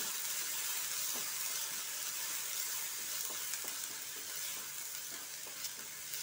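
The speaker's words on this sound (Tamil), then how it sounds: "அரைச்ச விழுதை போட்டு இதில் வதக்கிக்கலாம்." Ground spice paste sautéing in a pan for Kerala-style cluster bean thoran: a steady, close sizzle with faint scraping stir taps now and then, and no voices.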